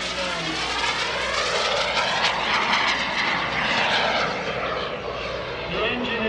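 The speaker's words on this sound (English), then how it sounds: "here comes Tom Larkin, the SubSonex Mini Jet." A SubSonex Mini Jet, a small experimental jet with a BBS PJ-100 engine, roars past at an airshow at Greenwood Lake, a loud, steady whine that swells and fades slightly as it flies by during an aileron roll.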